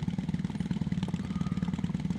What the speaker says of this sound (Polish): Od razu wskakujemy na motorek.